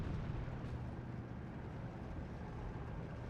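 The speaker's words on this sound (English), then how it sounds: "81mm mortar of Babar trying to get the hit onto the Breda" 81mm mortar fire in the SD 2 (Steel Division 2) wargame, a steady low rumbling barrage with dull booms under continuous battlefield noise, no voices.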